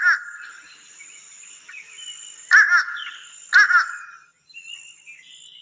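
A nasal American crow call sounds twice, about a second apart, each a short two-part caw, over a steady high insect-like hum.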